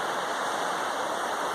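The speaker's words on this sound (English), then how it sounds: "A little river thingy" A small river swollen after two days of rain rushes steadily, a close, continuous broadband wash of flowing water with no pauses or voices.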